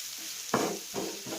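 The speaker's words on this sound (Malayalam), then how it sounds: "ഇനി നമുക്കത് നല്ലതുപോലെ ശകലം നേരെ ഇളക്കാം" A spatula scrapes and stirs ground masala paste in a hot pan while cooking filling for Kerala-style beef puffs, with two distinct scraping strokes over a soft background sizzle.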